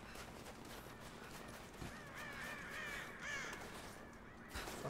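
Crows caw repeatedly in the video game Rise of the Tomb Raider, a run of harsh, loud calls over a steady game ambience with a few sharp thuds.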